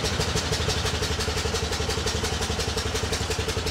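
An antique car at the Hershey antique swap meet pulls off for a ride, its engine chugging in a steady, fast, loud rhythm close by.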